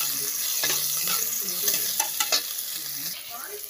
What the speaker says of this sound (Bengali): পেঁয়াজগুলো একটু ভাজা ভাজা করে